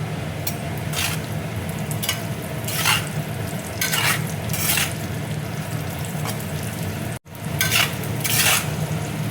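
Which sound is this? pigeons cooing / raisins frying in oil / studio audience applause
raisins frying in oil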